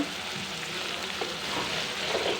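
Green chillies sizzle and crackle steadily in a hot pan of oil, a close, continuous frying hiss with brief popping bursts and no voices.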